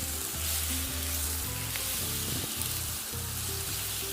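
Chopped onions hit hot mustard oil and are stirred, giving a continuous close sizzle and crackle with faint scraping, and no voices.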